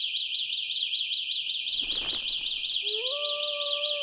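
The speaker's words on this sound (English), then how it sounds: "ear-piercing alarm." An electric scooter's anti-theft alarm sounds with a loud, rapidly warbling high-pitched siren tone. A short burst of rustling noise cuts in midway, and a few steadier tones rise near the end.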